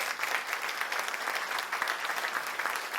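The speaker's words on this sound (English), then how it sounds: "let's give her a round of applause" A crowd at a United Way annual meeting gives a warm round of applause, a dense and even sustained clapping that holds steady throughout without talk over it.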